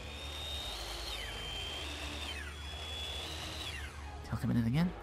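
In a video game, a robot enemy's saw blade grinds like a floor sander, whining in repeated falling sweeps, followed by a short burst of voice at the end.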